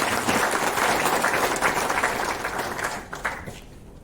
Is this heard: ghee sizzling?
no